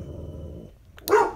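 A dog gives a low rumbling growl, pauses briefly, then lets out a single sharp bark at close range. No voices are heard.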